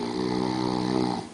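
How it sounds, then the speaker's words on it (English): A person snoring in a long, steady, rumbling drone that holds for just over a second, then cuts off, close and fairly loud with no talk over it. "Snoring can ruin a restful sleep for you and others."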